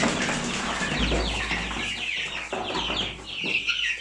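Crowded poultry chatter: young chickens clucking and guinea fowl calling together in a dense, continuous flock noise, close by, with occasional wing rustles.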